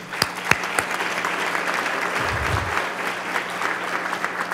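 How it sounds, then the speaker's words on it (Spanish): Audience applause at an event in Samborondón, a steady dense wash of many hands clapping, moderately loud and continuous throughout with a few sharper claps near the start. "Ahora un aplauso para ellos, por favor."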